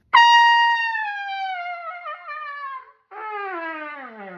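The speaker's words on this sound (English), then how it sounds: "Just keep going lower. Slow, slow, slow until you go all the way down." A trumpet plays a long slow fall, one sustained note sliding gradually lower, a brief break, then a second descending tone continuing further down; bright, close and unaccompanied.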